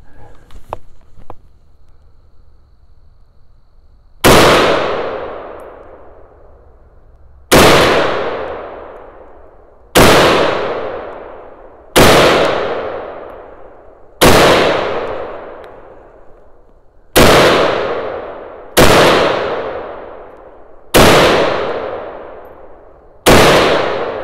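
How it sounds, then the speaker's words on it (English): Nine loud SKS rifle shots ring out one at a time at irregular intervals of about two to three seconds. Each sharp crack is followed by a long ringing decay, after faint handling noise at the start. "Now that's firing the SKS."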